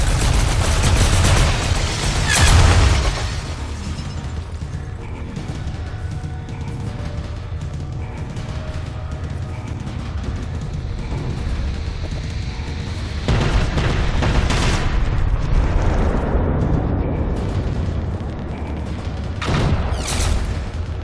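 Rapid bursts of gunfire and booming blasts in the video game Generation Zero, loud, close and continuous, with heavier volleys near the start and later on.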